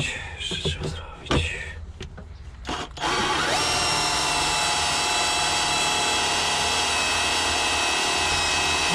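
A power drill bores a hole while an air conditioner is being fitted to a Ursus C-360 tractor, starting after a few short taps and bursts, then running loud, close and steady with a high whine until the end; someone talks quietly at first.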